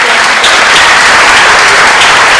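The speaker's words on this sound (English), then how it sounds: "let's have one last final round of applause for our athletic hall of" Steady, loud applause from a full audience at a school athletic hall of fame and distinguished alumna awards ceremony, dense clapping sustained evenly throughout.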